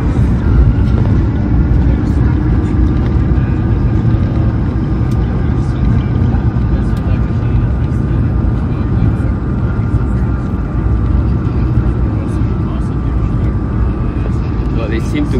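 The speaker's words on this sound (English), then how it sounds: "we're just about to touch down in Geneva International Airport." A Swiss International Airbus A220-300 lands at Geneva airport, heard from inside the cabin as a loud, steady roar of engine and rushing air that stays constant throughout with no clear break.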